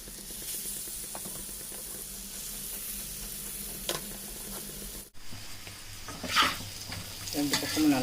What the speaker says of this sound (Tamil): இந்த பக்கம் நான்ஸ்டிக்கில் கொஞ்சம் வறுத்துக்கலாம்.